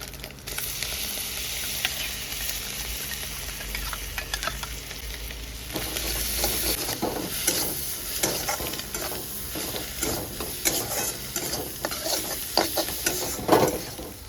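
Maggi masala soaked in hot water sizzles and frying in a hot pan with egg, with steady hiss and scraping stir strokes throughout, growing busier after a few seconds, close and fairly loud with no talk.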